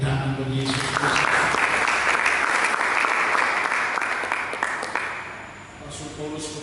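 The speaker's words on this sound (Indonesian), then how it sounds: "Mari kita beri tepuk tangan bagi Yesus Kristus." Church congregation clapping together for Jesus Christ during a sermon, a full, steady burst of applause that swells and then tapers off, with voices faintly mixed in.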